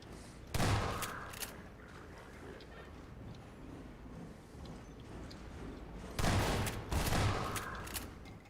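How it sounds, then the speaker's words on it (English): Shotgun blasts in Half-Life 2, two loud booming bursts in a game soundscape, one early and then a pair near the end, with low ambient background between them. "Shotgun."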